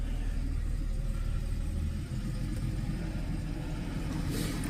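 A Daimler 3.6 classic car idles after a freezing cold start in a workshop, a steady low rumbling engine note, close and continuous, with no talking.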